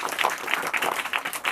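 A short, moderate round of clapping for a student during a classroom math test session, a small group's applause heard fairly close with no speech over it.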